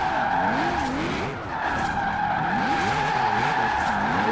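A V8-swapped Mazda MX-5 with a Rocket Bunny body kit and about 1016 horsepower drifts on a mountain road in Forza Horizon 4, its engine revving and wavering while tires squeal continuously, loud and close.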